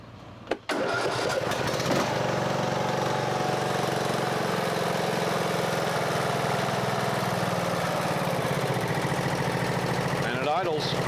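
A Briggs & Stratton lawn mower engine with a camshaft failure catches almost at once after a click, then settles into a loud, steady, close idle that runs on without a break.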